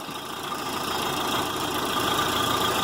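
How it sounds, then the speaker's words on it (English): A 1996 Volkswagen Jetta with a 2.0 engine idles steadily at close range, a continuous loud mechanical hum and rattle with no speech. "Let's start the engine"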